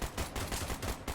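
Rapid gunfire in the Minecraft video game: a quick, loud burst of about eight shots in a steady rhythm, heard alone with no talk.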